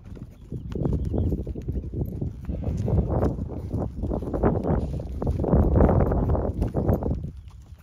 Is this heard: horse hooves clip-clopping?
yes